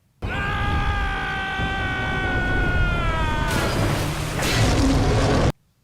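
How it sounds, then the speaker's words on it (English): Depth charges explode in a shark attack movie, a sustained roaring blast with a second loud burst of rumbling noise partway through, loud and alone. "the explosion goes off."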